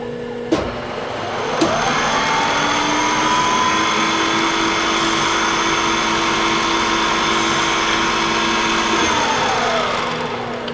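A CNC mill peck drilling a 15 millimeter hole: a steady machine whine with a sharp knock at the start, holding a constant pitched hum for about ten seconds before winding down.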